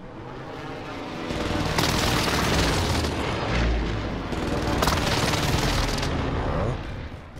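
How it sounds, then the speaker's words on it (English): Airstrike explosions in Call of Duty: Modern Warfare: heavy, rumbling blasts and crackling bursts of gunfire-like detonations roll on together for several seconds, loud and dense, with two especially sharp surges. "Allied precision airstrike incoming."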